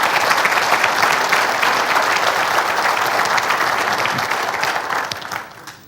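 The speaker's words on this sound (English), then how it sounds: "Let's give a big round of applause for the police department." An audience at a 2015 State of the City address gives sustained applause for the police department, a dense, even roar of many hands clapping that holds steady and then tapers off at the end.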